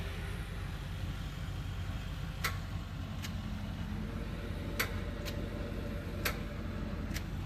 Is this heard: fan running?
yes